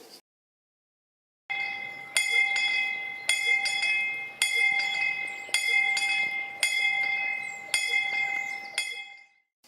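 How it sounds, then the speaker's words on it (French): A bell on a farmhouse roof rings repeatedly in a steady rhythm, calling to meditation, each clear metallic strike overlapping the lingering ring of the last, carrying from some distance. "nous utilisons la cloche sur le toit de la ferme pour appeler à la méditation"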